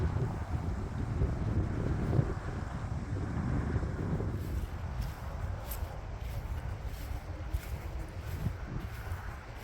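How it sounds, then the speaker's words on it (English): Wind blowing during a walk in a park, a steady broad rush and buffeting across the microphone that continues without a break through the whole stretch and eases slightly toward the end. "The wind's blowing, but it's not going to ruin my walk around a park today."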